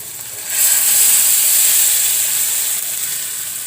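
Water hits a hot pan of fried lentils and bursts into a loud hissing sizzle after a brief quieter start, then settles into a steady steamy hiss that slowly fades, close up and with no voices.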